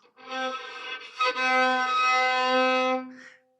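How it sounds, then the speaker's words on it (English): A violin sounds a C played with the third finger, not pressed hard enough on the string. It gives one sustained, thin, wispy and slightly sickly note with a short break, played solo and close. "because I'm not pushing down hard enough, you're getting that really wispy, almost kind of sick kind of sound"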